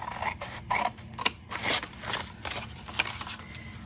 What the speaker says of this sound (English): we're going to cut on this score line and this score line